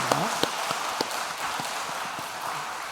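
A church congregation at a Sunday worship service applauds, with a steady wash of clapping that fills the space evenly from start to finish.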